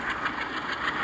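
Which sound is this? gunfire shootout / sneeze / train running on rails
train running on rails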